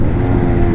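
A Honda Grom motorcycle engine downshifting, a loud, close, deep growling rumble that holds steady through a brief burst with no talking.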